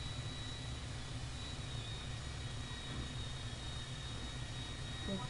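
A large airplane in GTA 5 flies low over the sea, its jet engines producing a steady, loud, unbroken roar with a faint high whine riding on top.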